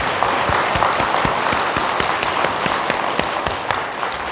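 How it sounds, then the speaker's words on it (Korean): Applause from a Buddhist temple congregation at a Saturday dharma service, a dense steady patter of many hands clapping close by, sustained evenly for several seconds with no talk over it. "우리 큰 박수 한번 보내주시죠"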